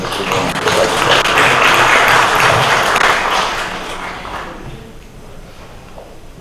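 An audience at a world congress of Eminescu scholars applauds warmly, the clapping swelling loud and dense before tapering off into scattered claps and near quiet.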